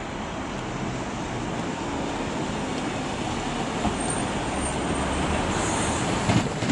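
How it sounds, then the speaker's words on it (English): An East Midlands class 156 diesel unit, 156406, on a Norwich service at Manchester Piccadilly, heard as a steady broadband rumble of the train that builds slightly toward the end with a few faint squeals. "East Midlands train service to Norwich. Unusual, with a 156 on the front,"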